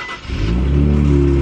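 An Infiniti Q50 engine revving up to high RPM, rising quickly and then holding loud and close, with no talking over it.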